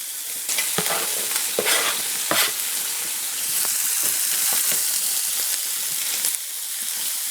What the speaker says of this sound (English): The onion is going to start to caramelize because of the bacon grease that's been rendering out.